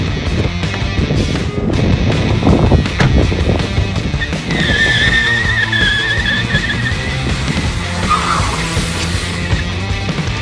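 A car in a video game drives and skids, with a continuous engine drone and a squealing tire skid partway through, loud and close, with no speech.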